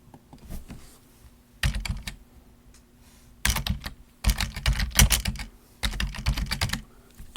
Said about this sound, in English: Just type in Ventura and search for it.